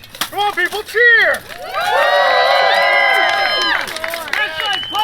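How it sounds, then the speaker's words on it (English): A Renaissance fair crowd cheers and whoops loudly, a few short shouts swelling into a sustained burst of yelling that holds for several seconds, then tapers into scattered calls. "Come on, people, cheer!"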